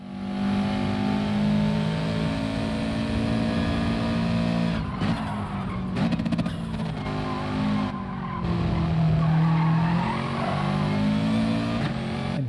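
Subaru WRX race car pulling away from the start of a 10-lap Gran Turismo Sport race at Lago Maggiore, a steady engine drone with rising revs, gear shifts and brief tire squeals among other cars.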